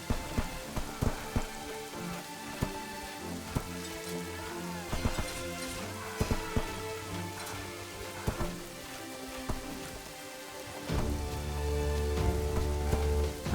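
Volleys of arrows fall on attackers near water during a siege in the medieval strategy game Kingdoms and Castles: a dense, steady patter of many small impacts and clicks over layered game sound and music, with a louder, fuller stretch near the end.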